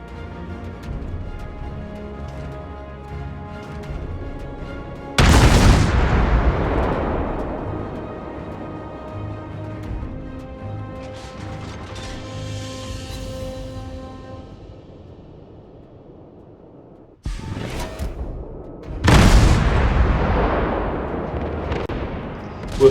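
Naval artillery salvos boom in World of Warships, with three huge gun blasts spread across the stretch. Each roars loudly and then fades into a long rumbling decay over a low ambient hum.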